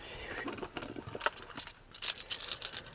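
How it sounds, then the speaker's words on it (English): A bunch of keys jangles and clinks close by in a few short bursts, with a brief bright rattle near the end. "I'll get my keys again"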